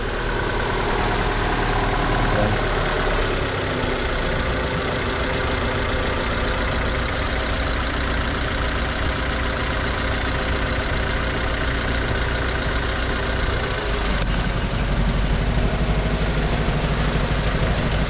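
A Honda Civic SiR engine idles steadily and loudly up close after being started, a constant rumbling drone with a slightly rough exhaust tone and no talk over it.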